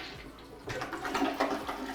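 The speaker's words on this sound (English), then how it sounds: "You can simply test this by actually taking a look and giving it a flush." Toilet flushed during a home inspection, a rushing water surge starting partway in and continuing steadily at close range, with no talk.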